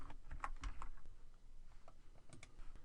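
Close, quiet tapping on a computer keyboard as JavaScript code is typed, a short burst of keystrokes in the first second followed by a few scattered presses, with no talk.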